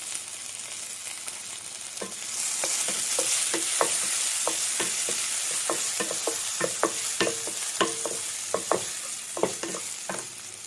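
Cut jackfruit pieces fry in ghee in the same pan used for toasting cashews for payasam, a steady sizzle that swells after the pieces go in, punctuated by repeated sharp scrapes and taps of a spoon stirring.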